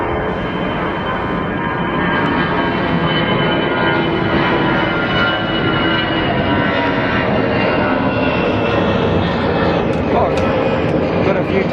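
A jet airliner takes off at London Gatwick Airport, a loud, sustained engine roar that holds steady throughout.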